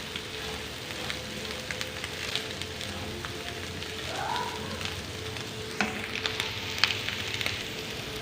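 Mixed vegetables for noodles frying in a pan, a continuous close sizzle and hiss with scraping stir sounds and occasional clinks of a utensil against the pan.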